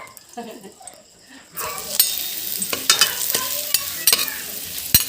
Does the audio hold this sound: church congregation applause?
no